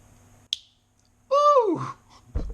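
A GEC 23 Grizzly Cut knife with a bull lock shuts with one sharp snap, followed by a brief metallic sliding whine and then a low thud as the blade settles. Near and fairly quiet, with no speech.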